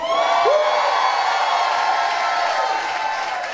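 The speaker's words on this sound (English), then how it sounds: "Y'all make some noise for our bishop." A church congregation at a live worship service breaks into loud cheering and applause, with whoops rising over a steady wash of clapping and shouting that carries on throughout.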